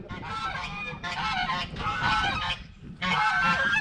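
Geese on a farm honk loudly in three or four close, harsh bursts separated by short gaps, a raucous overlapping chorus near the listener, with no speech heard.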